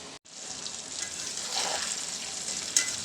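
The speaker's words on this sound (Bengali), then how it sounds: "ইলিশের তেলটাতেই দিয়েছি পেঁয়াজ মরিচগুলো" Onions and chilies frying in leftover hilsa fish oil make a steady, close sizzle that runs without pause, with one brief cut near the start and a faint clink toward the end.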